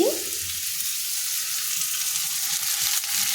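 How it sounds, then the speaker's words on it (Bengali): Onions fry in a pan with a bright, continuous sizzle and hiss, close and fairly loud. Soft stirring knocks come and go underneath throughout, and no one speaks. "পেঁয়াজটা লাল করে ভাজা হয়ে গেছে"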